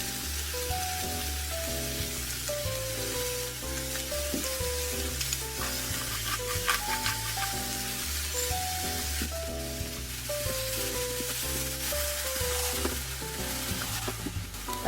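Onions, carrots and other vegetables sizzle and crackle in a pan, a dense, steady frying hiss lasting throughout with scattered stirring noises, while music plays underneath.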